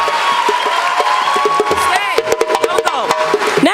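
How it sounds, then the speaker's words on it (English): Audience at a Somali fashion night cheering and whooping for models on stage, a loud continuous crowd roar with scattered shouts and whistles, with voices mixed in. "I would like for you to give them a warm hand of applause to our beautiful models"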